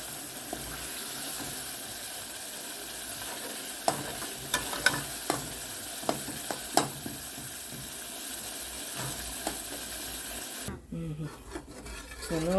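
Spoon stirring a block of coconut to dissolve it in a pot of cinnamon water while making sweet potato pudding, a steady close scraping and rubbing with a few sharper clinks, ending with a brief bubbling sound.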